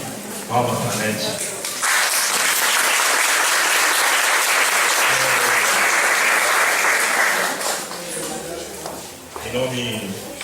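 Audience applause fills the room at the close of a spiritist seminar, a dense, steady clapping that swells after a brief spoken line, holds for several seconds, then fades as a voice resumes.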